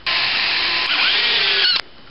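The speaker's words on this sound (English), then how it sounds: "what you want to do is pre-drill holes in from here and then put them together with screws" A power drill bores pilot holes into wood before screwing pieces together for a homemade motor build; one steady, loud whining run of under two seconds, pitch dipping slightly mid-bore before stopping abruptly.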